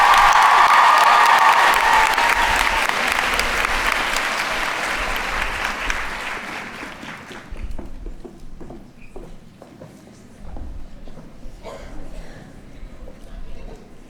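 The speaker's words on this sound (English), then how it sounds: "Please join us in giving all of them a round of applause." Audience at a school faculty recognition ceremony applauding loudly, a dense burst of clapping that tapers off after about seven seconds into quieter room noise and scattered sounds.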